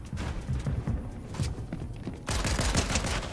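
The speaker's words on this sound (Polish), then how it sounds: "To jest pistolet taktyczny, tak, to jest ten nowy pistolet też." Rapid bursts of tactical pistol fire in Fortnite, with the new pistol firing in quick clustered shots that turn louder and denser near the end, over a busy game mix with no talk.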